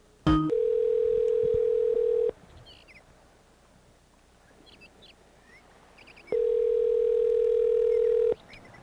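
A phone call rings out: two long, steady, even tones, each about two seconds, separated by a four-second gap of near silence with only faint background.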